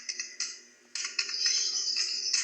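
Computer keyboard typing in short clattering bursts of keystrokes, close and fairly crisp, with a brief lull before the tapping picks up again and runs steadily to the end, no talking.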